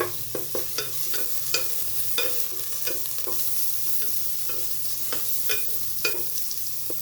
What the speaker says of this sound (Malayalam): ഇതിൻ്റെ ആ ഒരു റോ ഫ്ലേവർ പച്ചമണം മാറുന്നത് വരെ നമുക്ക് ഹൈ ഫ്ലെയിമിൽ വഴറ്റാം.